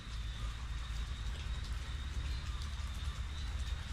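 Steady rain falls outdoors at a work site, a continuous low wash of drops that stays even and unbroken throughout, with no voices over it.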